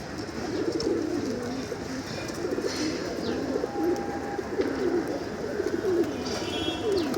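Male pigeons released from a loft on a late-summer afternoon fill the air with repeated low coos over a steady outdoor hum, with faint chirps in the distance.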